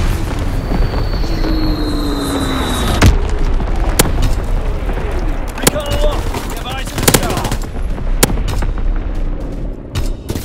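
An artillery battery fires in a Call of Duty battle, with sharp, irregular bursts and booming reports popping over a dense rumble of combat, and a radio-style voice speaking in between.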